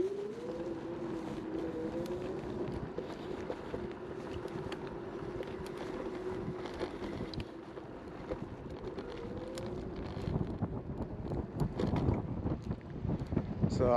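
A Mercane Widewheel Pro electric scooter ridden in eco mode gives a steady motor whine under constant wind rush, with the buffeting growing louder and rougher toward the end.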